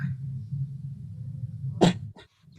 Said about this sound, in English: that is the sound of my mum coughing